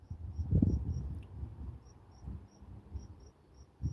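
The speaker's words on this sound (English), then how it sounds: "I think it's what they call a peeper" A spring peeper frog calls at night: short, high peeps repeat at an even pace for four seconds, faint and thin, over a few low nearby thumps and rustles.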